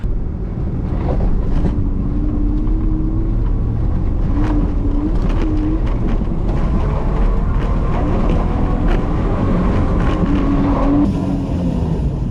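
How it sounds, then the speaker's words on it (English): An off-road 4WD revs hard in high country terrain, wheels spinning, making a loud continuous engine drone with rising and falling pitch, wind buffeting and a few knocks, with no voices heard. "So much wheel spin."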